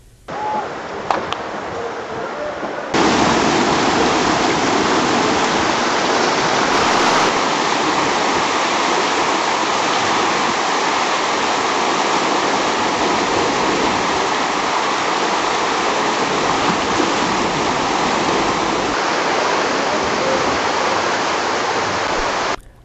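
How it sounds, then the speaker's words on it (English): A flooding river in the rainy season at Devprayag rushes over its banks, a loud, steady roar of churning water that starts abruptly after a few quiet seconds and holds continuously, close and without talk. "there was a lot of water in the river, which was flooding over both the sides."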